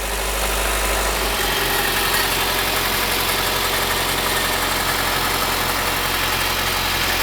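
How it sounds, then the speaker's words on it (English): A 1990-2001 Acura Integra engine idles close by with a freshly installed exhaust header, giving a steady, continuous low rumble with no speech over it. "I'm going to start it up, check for leaks."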